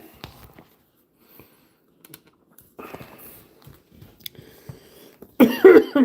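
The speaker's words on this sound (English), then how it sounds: "coughing a lot." A few harsh, close coughs burst out near the end from someone feeling unwell, after a stretch of quiet shuffling and handling noises in a work space.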